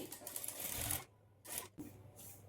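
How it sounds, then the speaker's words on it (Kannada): Sewing machine stitching puff sleeves for a blouse, in short close bursts of rapid whirring stitches broken by brief pauses. "ಹಾಫ್ ಇಂಚ್ ಮಾರ್ಜಿನ್ ಇಟ್ಕೊಂಡು ಸ್ಟಿಚ್ ಮಾಡ್ಕೊಳ್ಳಿ"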